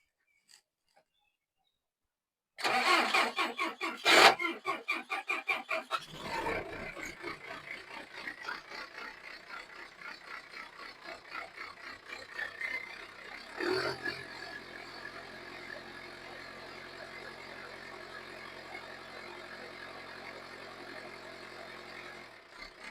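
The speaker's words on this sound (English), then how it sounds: "So let's see if this tractor starts." After a short silence, a John Deere tractor engine cranks and sputters to life, then settles into a steady, rumbling idle that continues to the end.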